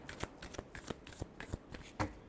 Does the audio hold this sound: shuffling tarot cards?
yes